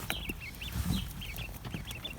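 Hens cluck in a coop where chicks have moved into a bigger space. Soft, repeated chirpy clucks come close and quick, one after another, with low rustling under them and no voices.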